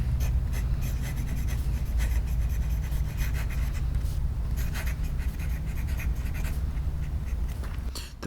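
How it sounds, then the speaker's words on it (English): Scratchy, rasping strokes of a fountain pen's cursive italic nib dragging across paper, a continuous irregular scribbling close to the microphone. "The pen itself is quite noisy."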